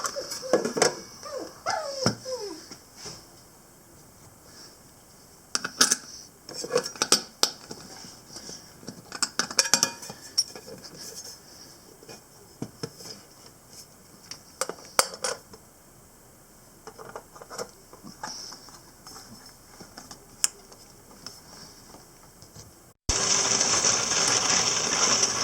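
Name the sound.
case tumbler tumbling, lid closed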